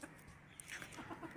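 An Aseel rooster, recently a bit unwell and in a new place, gives soft scattered clucks close by, quiet short calls over a faint background hiss with no talking.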